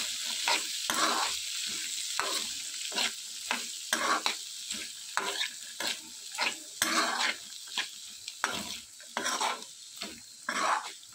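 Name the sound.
stirring boiled chickpeas with garam masala in a pan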